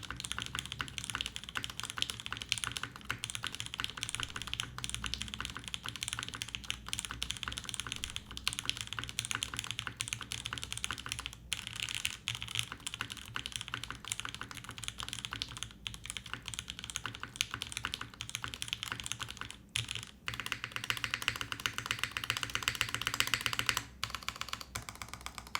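Typing on an aluminum top-mount mechanical keyboard fitted with Gateron Oil King switches produces continuous, close, dense keystrokes with a deep, muted clack that runs without pause.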